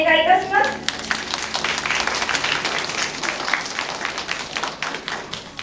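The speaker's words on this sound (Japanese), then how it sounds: "それでは皆さん拍手お願いいたします" Crowd applause at a year-end zodiac handover ceremony at Nasu Animal Kingdom zoo, steady dense clapping that swells and holds for several seconds, with a host's voice briefly heard at the start.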